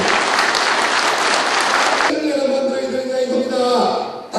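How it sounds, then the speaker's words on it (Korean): Loud, dense audience applause fills a packed book-launch event in Yongin for a former city council chairman, then breaks off abruptly partway through as music-like tones and a few scattered claps take over. "여러분 우리 이의원 회장님께 큰 박수 한번 쳐주시기 바랍니다."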